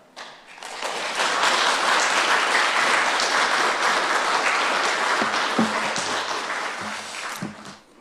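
A church congregation claps loudly and steadily in welcome of a pastor at a Sunday morning service, a dense sustained round of applause that swells, holds for several seconds, then tapers off with a few scattered claps at the end.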